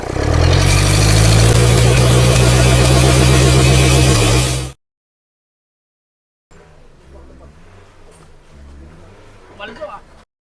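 Loud turbocharged car engine with an overheating fault runs close by for about five seconds, a rough steady roar that cuts off abruptly, followed after a pause by quieter mechanical noise.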